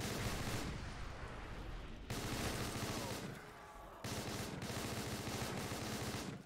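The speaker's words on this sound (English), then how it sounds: "Oh, an actual gun. Infinite ammo again." Rapid automatic gunfire from a weapon with infinite ammo in a zombies survival video game, loud continuous bursts broken by short pauses.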